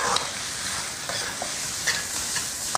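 Beef tripe and tofu skin stir-fried in a wok with dried chilies and Sichuan peppercorns, a steady oil sizzle with occasional spatula scrapes and clinks against the pan.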